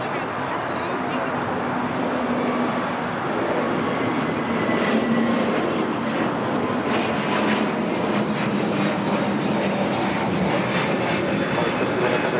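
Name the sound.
Volaris Airbus A321neo jet taking off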